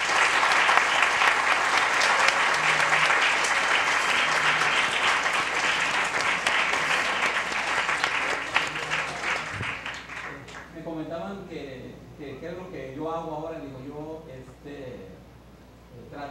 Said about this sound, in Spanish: yo creo que merecen un fuerte aplauso por parte de ustedes